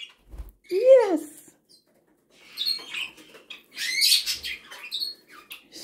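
A Bourke's parakeet gives a few bright, sweeping chirps up close, then a burst of busier twittering with light rustling and fluttering, separated by short silences.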